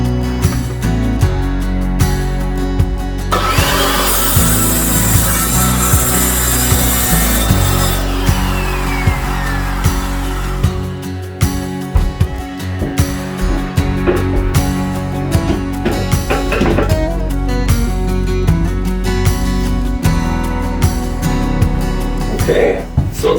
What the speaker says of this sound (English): Now when cutting this kind of stuff, make sure you have a finish blade on here.